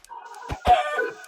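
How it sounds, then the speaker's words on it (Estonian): Golden chickens in the Minecraft video game giving short clucking calls, a couple of quick clucks followed by a longer rising squawk, fairly close and alone. "kuldsed kanad!"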